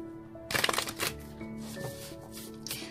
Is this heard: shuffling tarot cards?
yes